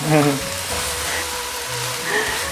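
Rice stir-frying in a pan sizzles steadily with brief scraping stirs, while people speak over it at the start and again near the end.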